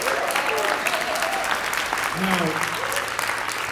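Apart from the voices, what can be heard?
audience applause for a guest at a jazz concert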